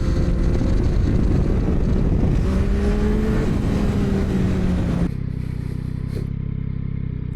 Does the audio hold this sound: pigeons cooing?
no